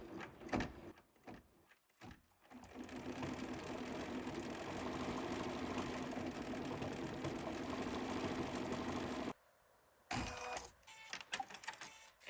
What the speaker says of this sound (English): let's stitch them out.